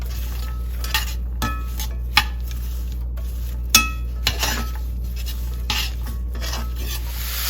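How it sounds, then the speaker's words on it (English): Thyme and garlic stirred together in a pan, with soft scraping strokes and occasional sharp utensil clicks against the metal over a steady low hum, close and fairly quiet. "Now I'm gonna mix it all up and cook it for 5 minutes."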